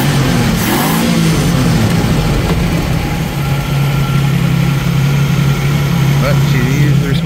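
A 1990 Jeep YJ with a 4.2L engine and a five-speed settles into a steady, close idle after its carburetor fix. A brief rev near the start gives way to an even, low rumble with a faint clatter over it.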